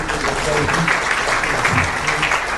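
An audience claps at a formal gathering, with sustained, fairly loud applause that fills the space while murmuring voices run underneath.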